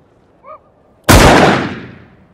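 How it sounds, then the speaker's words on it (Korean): A single loud, close gunshot cracks out during morning shooting practice, with a long reverberant tail that fades over about a second. A faint short tone comes just before it. "다음 날 아침 사격 연습을 하던 존."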